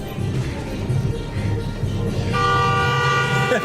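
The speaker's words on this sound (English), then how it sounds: "But he's honking behind us." Car horn honking from behind in busy multi-lane traffic, a sustained tonal blare rising over the road noise in the second half, with engine rumble underneath.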